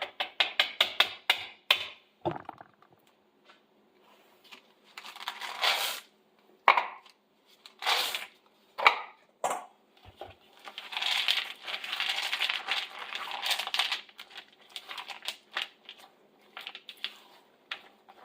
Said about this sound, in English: Now I am going to fold in those chocolate chips.